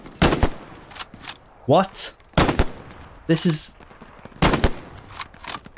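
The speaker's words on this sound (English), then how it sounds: "This is the Lee Enfield Jungle Carbine. And it goes a little bit like this." Lee Enfield Jungle Carbine bolt-action rifle firing in the World War II game Hell Let Loose, five sharp loud shots spaced about a second apart with metallic bolt-cycling clacks between them, and a brief spoken word.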